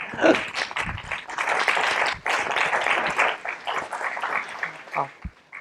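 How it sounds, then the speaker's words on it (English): Applause from a conference audience on the Bartram Trail, a broad crowd clapping that swells and thins over several seconds, ending in a few scattered claps. "you deserve a round of applause"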